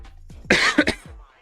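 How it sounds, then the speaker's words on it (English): A single short, harsh cough close to the microphone, with a quick double burst, preceded by faint breathing. "Oh, I get a cough."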